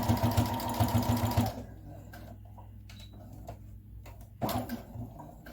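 A sewing machine stitches elastic onto a fabric mask in a fast, steady whirring run of needle strokes, then stops for a quiet pause with faint handling noises before a brief second burst of stitching.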